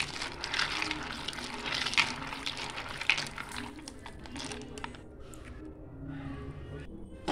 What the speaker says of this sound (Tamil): பவுலில் வந்து தண்ணி ஊற்றிக்கிட்டு வாஷ் பண்ணிக்கலாம்.